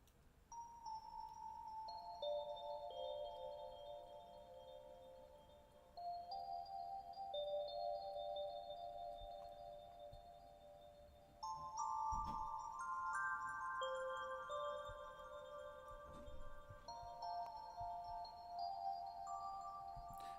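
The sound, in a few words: synthesizer bell preset melody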